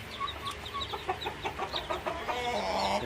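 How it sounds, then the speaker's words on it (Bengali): Five-day-old Brahma chicken chicks give quick, close peeps and soft clucks in an irregular stream, several small birds calling over one another with no talking. "এখানে হচ্ছে ব্রাহ্মার মুরগির বাচ্চা আছে।"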